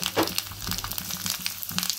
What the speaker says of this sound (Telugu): 2 మిరపకాయ వేస్తున్నాను,